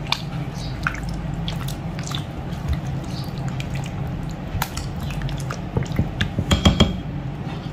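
Chicken shish tawook marinade with oregano being mixed in a bowl, making wet squishing and dripping sounds with small clinks of a utensil against the dish. The sounds build to a busier, louder patch near the end.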